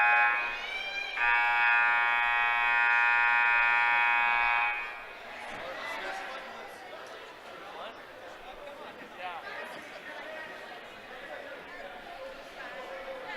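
During a girls' high school basketball game in a gym, a scoreboard buzzer sounds as one loud, steady tone for about four seconds, then crowd chatter and an announcer's voice follow.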